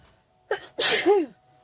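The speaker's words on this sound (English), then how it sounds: "excuse the sneeze right there" A single loud sneeze up close from someone getting over a cold, a short sharp intake followed by a forceful burst, in an otherwise quiet room.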